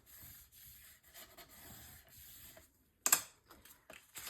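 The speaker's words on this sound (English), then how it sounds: "then burnishing this down" Rubbing strokes of a tool burnishing paper down onto a Stamperia Fortune mini album page, a steady soft scraping for about three seconds. A sharper crinkly rustle of handled paper follows after a short pause.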